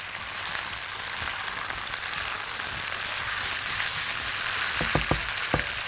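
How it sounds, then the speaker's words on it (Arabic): Garlic and potatoes sauté in a pan for a spiced potato dish, giving a steady sizzling hiss throughout with a few soft clicks and clatters of stirring near the end. "شوح الثوم كده جنبها زي ما انتم شايفين، مش عايزاه ياخد لون عشان ما يتحرقش"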